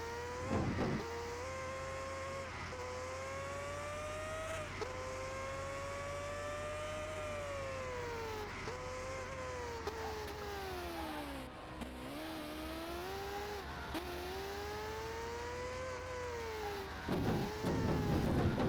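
A hypercar engine in a rebuild-battle racing video game, with a Pagani Zonda and a Koenigsegg Agera, revs and drones continuously, its pitch rising and falling as the car accelerates and turns, steady and prominent throughout.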